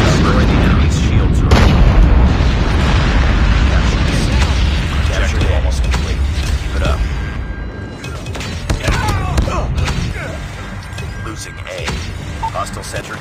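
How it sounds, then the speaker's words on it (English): A nuke detonates in a Call of Duty Mobile match, a loud, deep booming blast that rumbles heavily before easing, followed by scattered gunfire and game effects as the roar decays. "Friendly nuke has been launched."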